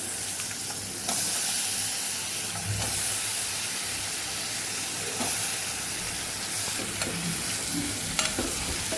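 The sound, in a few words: cowpeas and potatoes frying with spices in a pan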